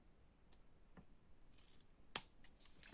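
Scissors cut washi paper while a papercraft summer album is made, giving a few faint, quiet snips and rustles with one sharper crisp cut near the end, heard close in a quiet room.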